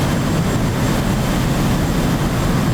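Simulated F/A-18C Hornet jet flying a coupled carrier approach at sunset, outside view: a continuous broadband roar of jet engine noise, steady and unbroken, with no voices.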